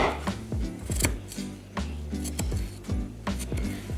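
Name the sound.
chopping carrots with a knife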